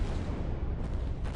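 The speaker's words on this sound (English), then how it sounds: "Powerful explosions swept through the area." Powerful explosions from a vapor cloud that a backfiring truck ignited at a refinery unit, heard as a dense, continuous low rumbling roar with no clear separate blasts.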